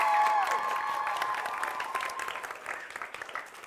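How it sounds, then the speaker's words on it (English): Applause from a school theatre audience at a performing arts show, warm clapping that starts under a speaker's voice, then thins out and tapers toward the end. "A round of applause for Miss Ryan"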